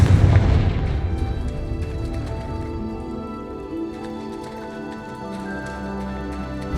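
A heavy booming blast from the Confringo curse in Hogwarts Legacy opens the clip, then a long rumbling decay lingers under steady game ambience.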